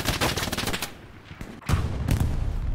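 Rapid bursts of machine gun fire in the Hell Let Loose war game, loud and close, with a short pause in the middle before the firing resumes.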